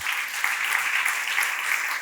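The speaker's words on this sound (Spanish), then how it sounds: "Dele un aplauso al Señor." A church congregation applauds for the Lord during a Spanish-language sermon, a dense, steady wash of many hands clapping together, loud and continuous throughout with no voice on top.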